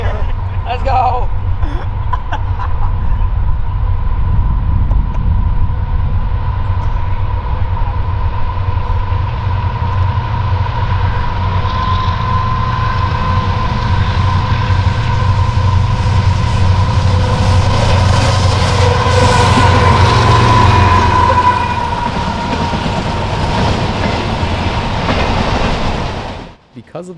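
A CSX freight train led by an SD70MAC locomotive rumbles east past nearby through Berea, a long steady roar of rolling cars with rhythmic clacking over the rails, fading out at the very end.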